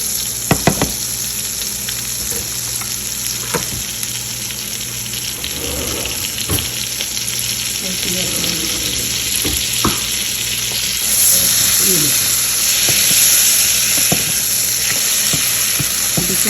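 Butter and oil sizzle steadily in a hot pan, a close, continuous frying hiss punctuated by occasional clinks and scrapes of a spoon, with no talking.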